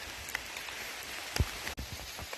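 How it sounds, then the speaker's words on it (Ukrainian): Steady rain patters through a forest, a soft continuous hiss with scattered drip taps and one brief louder low thump, fairly quiet throughout with no talking. "Іде дощ, не дає по-людськи походити."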